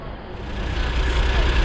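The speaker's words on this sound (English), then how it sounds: "start cabling up and watch the slings come tight" Crane boom winch cabling up a little on a job site, a steady low mechanical drone with engine rumble building slightly louder and rougher over the short stretch as the slings come tight.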